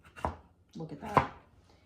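A slicer presses through strawberries in two quick, soft chopping thuds against a surface, close by and fairly quiet.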